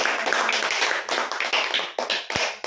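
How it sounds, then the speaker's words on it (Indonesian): Applause from a classroom of students, a burst of quick overlapping claps running for a few seconds at close range with no talking over it. "Berikan tepuk tangan dong."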